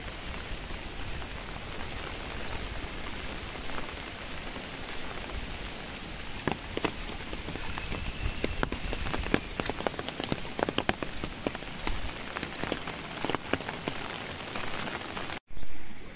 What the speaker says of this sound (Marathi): रातच्यान पाऊस पडता कोकणात आणि आता हूर येण्याचा संभव आहे.